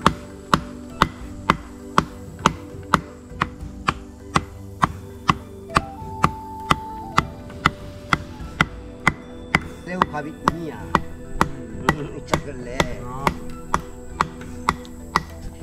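Tree bark is beaten flat with a wooden mallet by the Mentawai people, giving a steady run of sharp, regular knocks at about one per second, close and loud, with faint background sounds between strikes.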